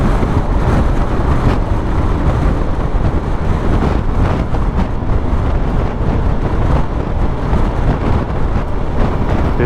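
Strong wind buffets a GoPro microphone beside Lake Tiberias in the Golan Heights, a loud continuous roar with gusty low rumble throughout and no speech.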